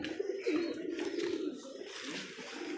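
Pigeons coo softly and repeatedly at a pigeon-keeping set, a low, throaty, rolling burble that carries on continuously at a faint level with some light rustling and chirps mixed in.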